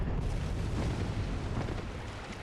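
Deep rumbling blasts from big explosions in the game Bloodborne, a dense, continuous roar of low booms lasting a couple of seconds with no voices over it.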